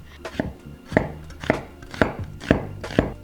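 A knife chops onions along the grain on a cutting board in a steady run of six or so evenly spaced, crisp thuds, close and loud with no talking.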